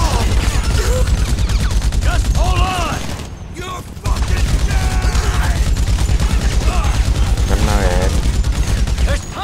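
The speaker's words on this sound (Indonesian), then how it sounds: "Aduh, ditembak kemana-mana lagi." Heavy gunfire in GTA V, dense rattling bursts and bangs that run almost continuously, briefly drop out, then resume, with someone talking excitedly over the shooting.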